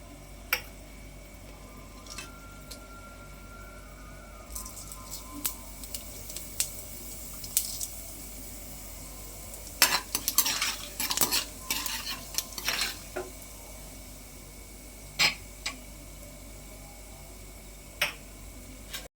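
Dried red chillies and cumin fry in oil with a soft, steady sizzle, punctuated by occasional spoon taps and a brief burst of stirring and scraping midway, close but fairly quiet, no speech.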